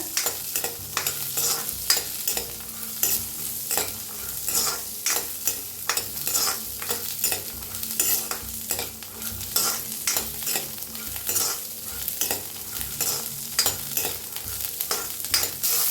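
Peas and chickpeas roast in oil in an iron kadhai, a steady close sizzle broken by frequent sharp scraping stirs of the spoon against the iron pan throughout.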